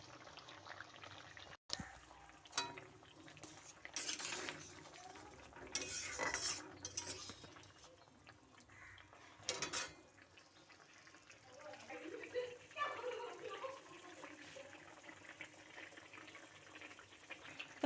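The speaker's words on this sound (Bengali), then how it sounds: "জল ফুটে গেছে, এখন মাছ দিয়ে দিব" Small punti fish slipped into a pot of boiling water, with quiet clinks of utensils against the pot, soft splashes and a low bubbling simmer, all faint and close.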